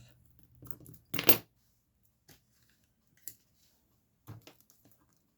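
Scissors snip through Hunky Dory paper strips for a stepper card, one brief crisp cut followed by a few faint taps and clicks of paper against the table, close and quiet with silence between.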